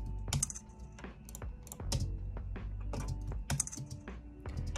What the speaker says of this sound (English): Just hitting spacebar to check these out.